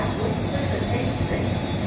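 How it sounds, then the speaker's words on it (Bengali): An express train pulls out on the far track at Sasaram Junction, a brief, steady low rail rumble with faint wheel hiss heard from a waiting train. "ওপাশ থেকে একটা এক্সপ্রেস বেরিয়ে যাচ্ছে।"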